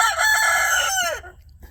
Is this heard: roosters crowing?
yes